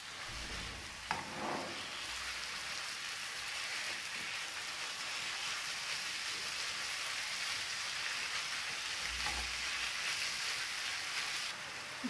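Minced meat frying in a pan, a dense, even sizzle like rain on a surface that runs steadily for the whole stretch, with a couple of brief clunks of handling, no talking.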